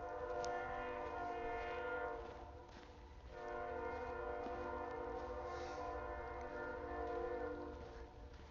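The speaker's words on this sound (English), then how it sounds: "That's a train going by" A train passes by on a snowy street during a blizzard, a sustained rumble with a loud, drawn-out horn that blares, dips briefly, then returns, heard from some distance outdoors.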